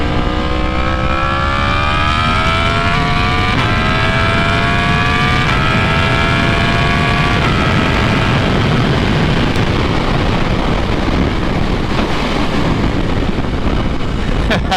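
A 2018 Yamaha MT-10 motorcycle pulls hard in third gear, its engine note climbing steadily in pitch with a shift partway through, loud and close over strong wind rush for the whole stretch.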